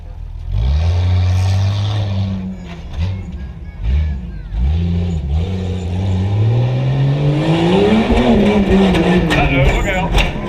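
Stock-class truck at a Chambersburg Tuff Trucks event pounding through a whoops section, its engine loud and close, revving up and down in pulses and climbing to a strong roar, with an announcer talking over it.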